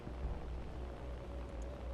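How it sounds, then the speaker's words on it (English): Steady broadband roar of jet engines from aircraft in the War Thunder video game, a continuous low rumble with a faint whine, heard alone and fairly quiet throughout. "Yep, I can hear jet engines."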